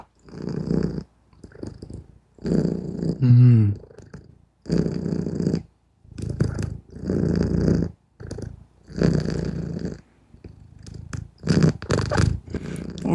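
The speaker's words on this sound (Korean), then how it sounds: "지금 골골송 하는 거 들려요?" A contented cat purrs in low, rumbling bursts, close to the microphone. Each breath cycle sets off a separate burst, with short pauses between them.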